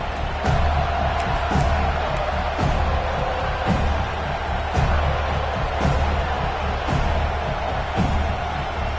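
A football stadium crowd roars during a Utes goal-line play on third and goal, a dense, sustained wash of cheering with repeated sharper bursts and thumps rising out of it every second or so.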